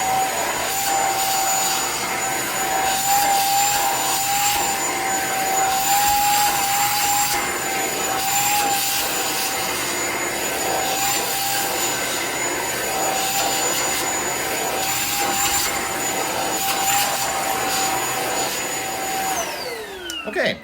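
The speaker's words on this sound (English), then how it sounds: "I'm going to vacuum off my couch" A Shark Apex Uplight vacuum cleaner, with the tool attached directly to the pod, runs steadily on a couch as a loud, continuous motor whine with a fixed high pitched tone, then shuts off and winds down at the end.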